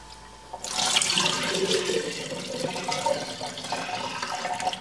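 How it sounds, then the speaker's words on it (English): Homemade chicken stock poured from a pot into mason jars set in a kitchen sink, a sudden start then a steady splashing liquid stream, continuing unbroken to the end without talk. "So I just put them in the bottom of my sink there and pour, hopefully without spilling."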